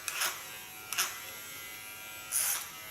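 A large electric hair clipper buzzes in three short bursts as it trims hair with a flat comb, a bright close whir that starts and stops with pauses between passes.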